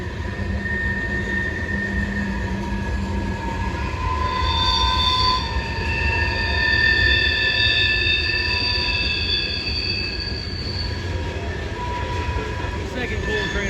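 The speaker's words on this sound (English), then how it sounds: "Second coal train of the day." A Norfolk Southern coal train rolls past on the rails at Bluefield, West Virginia, with a steady loud rumble and clatter of wagons, and wheel squeal rising and fading throughout.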